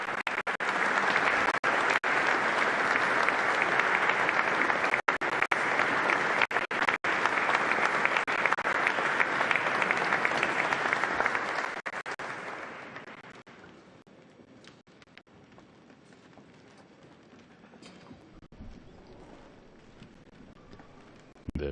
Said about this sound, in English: As we hear the applause, we notice that there is a standing ovation for the Pope's speech